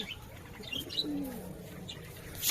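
Pet pigeons give soft, low cooing calls close by, mixed with faint chirps and a brief flutter of wings near the end, against quiet outdoor morning background.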